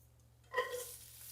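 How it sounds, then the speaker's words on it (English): Onions and jalapeños hit a hot skillet set to about 300 degrees and burst into a sudden sizzle that swells briefly and settles into a softer steady hiss, close by with no talking. "Onions and jalapeno. We're going to cook them down until they're kind of translucent."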